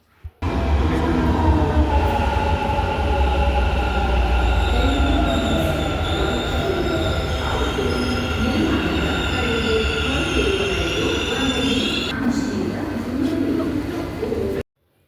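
A Bangalore metro train runs along the line, a loud close rumble of wheels with high squealing tones that rise and fall, sustained for most of the stretch before cutting off.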